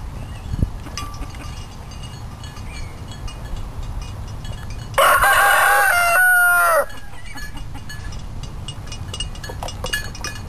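A rooster crows once, loud and close, a drawn-out call of about two seconds amid quiet city backyard background with faint clucking.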